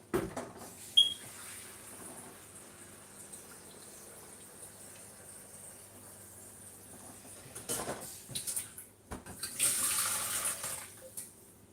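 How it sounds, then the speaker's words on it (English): Hot water runs from a kitchen tap over frozen food to defrost it: a quiet, steady hiss that swells into a louder gush near the end, with no talking. "Run some hot water on it to help it defrost faster."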